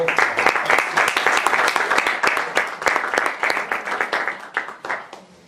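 An audience at a pension system forum applauds its two speakers, a burst of many hands clapping that holds strong for several seconds and then gradually tapers off.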